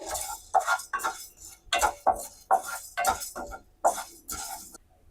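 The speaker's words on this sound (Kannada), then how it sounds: "1 ಟೇಬಲ್ ಸ್ಪೂನ್ ಅಷ್ಟು ಉದ್ದಿನಬೇಳೆ, ಅರ್ಧ ಸ್ಪೂನು ಮೆಂತ್ಯ ಎಲ್ಲನೂ ಹಾಕೊಂಡು ಡ್ರೈ ರೋಸ್ಟ್ ಮಾಡ್ಕೋಬೇಕಾಗತ್ತೆ" A spoon stirs urad dal and fenugreek seeds dry roasting in a pan for mango chutney, giving repeated close clinks and scrapes of metal against the pan in an irregular rhythm with no voices.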